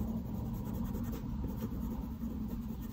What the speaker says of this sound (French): je vais prendre mon bleu, celui-ci, et je vais de nouveau colorier ici.